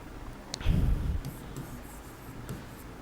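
Chalk or marker writing on a classroom board during a chemistry lesson, a short burst of scratchy strokes followed by fainter intermittent taps and scrapes, close and fairly quiet with no talking.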